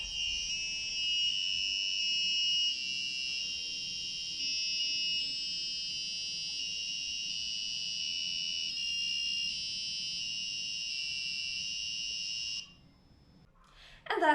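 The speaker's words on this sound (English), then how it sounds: "The sound quality of a buzzer is not that good" Piezo buzzer driven by an ESP32 running MicroPython plays a melody: a shrill, thin electronic tone holds almost continuously for about twelve seconds with slight pitch shifts, then cuts off abruptly, no speech.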